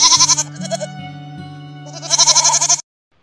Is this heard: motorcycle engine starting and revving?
no